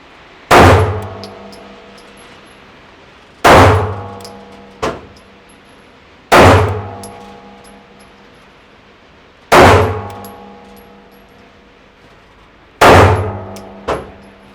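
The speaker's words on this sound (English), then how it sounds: "I just wanna watch you kind of controlling the recoil of the gun." Five loud handgun shots ring out at a shooting range, evenly spaced about three seconds apart, each a sharp crack with a ringing decay and a faint metallic clink after some of them.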